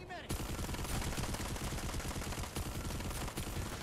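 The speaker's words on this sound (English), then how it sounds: "My own fucking teammate just shot at me." Teammate gunfire in the Planetside 2 video game, a dense continuous stream of rapid shots that stays loud and close for the whole stretch, with no pause after a brief quiet opening.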